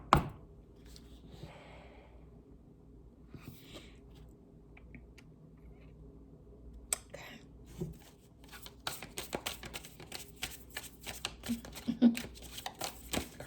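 Tarot cards are shuffled by hand, soft sliding and flicking near the mic at first, then a run of quick crisp riffle taps and snaps toward the end.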